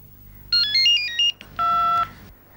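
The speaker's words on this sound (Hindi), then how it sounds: "टेलीफोन की आवाज है।" A cordless phone rings with a short electronic melody of high beeps, then a sustained buzzing tone, fairly quiet with no one speaking.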